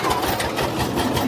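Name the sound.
tractor engine arriving to load harvested paddy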